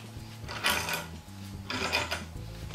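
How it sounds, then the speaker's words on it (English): A pipe wrench tightens a fitting onto hand-threaded steel pipe, giving two close bursts of grinding, rasping metal on metal, each about half a second long, over a low steady hum. "we'll take our trusty pipe wrench and proceed to tighten"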